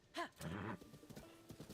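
A horse in Zelda: Tears of the Kingdom gives a sharp, close neigh, then a burst of quick hoofbeats that fades into softer, scattered clopping.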